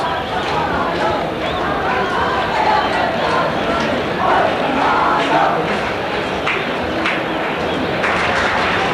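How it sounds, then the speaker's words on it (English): Spectators at a 1990 Pakistan versus West Indies one-day cricket match cheer for Pakistani bowler Waqar Younis, a distant, sustained stadium roar that swells and rolls under a commentator's voice. "The cheering begins for Waqar Younis."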